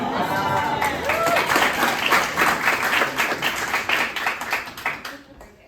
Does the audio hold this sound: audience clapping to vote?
yes